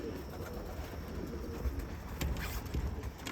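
Pigeons coo softly near a loft as the birds are called in, low murmuring calls repeating in a loose rhythm over a faint background hum, growing a little more frequent toward the end.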